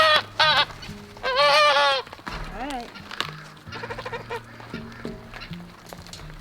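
Goats on a farm with a goose nearby bleat in several loud wavering calls near the start, followed by shorter bleats and honking, while a person speaks briefly.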